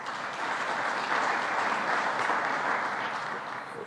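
An audience at a quarterly diplomatic briefing with envoys gives sustained applause, a dense, steady wash of many hands clapping at moderate distance, holding for several seconds before easing slightly, with no speech over it.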